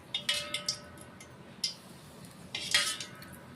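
A spoon clinks and scrapes against a bowl as about three spoonfuls of hot oil are mixed into gram flour (besan), with a few quick taps early, then one more and a louder scraping burst near the end.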